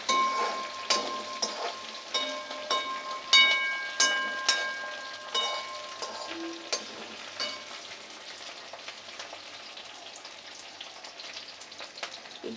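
Turmeric and curry leaves fry in a pan for a bitter gourd curry, a continuous close sizzle dotted with sharp crackles and pops, strongest early and settling to a softer steady hiss.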